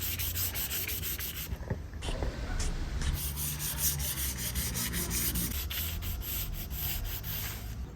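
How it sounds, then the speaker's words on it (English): Hand sanding on the cracked windshield vinyl area of a Honda Beat scooter makes a steady, close rasping rub in rapid back-and-forth strokes that continue throughout with little pause. "I'm just going to get all this nice and sanded."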